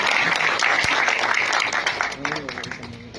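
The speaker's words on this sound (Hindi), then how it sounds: "आप लोग जोरदार तालियों से स्वागत करें।" Crowd at a public event in India applauding loudly to welcome a minister, dense clapping for about two seconds that then thins and tapers while a voice talks over it.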